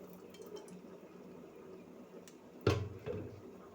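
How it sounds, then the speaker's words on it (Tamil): Oil is poured into a hot, dry pan on a stove while cooking salted meat curry, a quiet kitchen background broken by a short splash and sizzle, then a smaller second burst. "இப்போ எண்ணெய் ஊற்றிக்கிடுவோம்."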